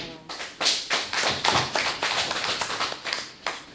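Applause from a live audience at a poetry duel, a modest scattering of clapping hands with irregular claps that fade and swell, fairly close with no speech over it.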